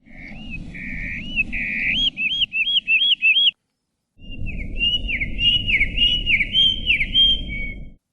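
Two hermit warbler song dialects, slowed down, each a run of buzzy, looping whistled phrases heard clearly and close, with a short silent gap between the two examples and faint background noise beneath.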